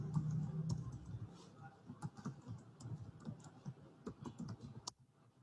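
A computer keyboard tapped in quick, uneven bursts as a search term is typed, soft close clicks with short pauses, faint talk underneath.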